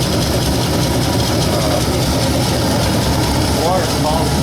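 A 1960 Ford F100 engine with an exhaust leak runs steadily up close, a rough continuous roar with a low rumble and a raspy, sputtering edge, with a voice briefly underneath.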